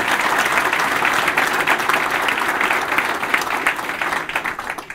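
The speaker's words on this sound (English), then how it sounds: "Please give Dave a round of applause" A crowd applauds at a police chief's swearing-in ceremony, dense sustained clapping that fills the room at full volume and begins to thin toward the end.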